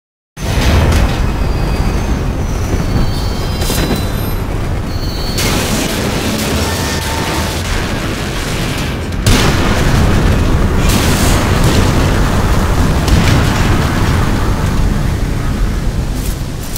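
An explosion aboard a ship in The Bouncer video game makes a sustained, loud roaring rumble that carries on for many seconds with a heavier surge partway through, with no voices.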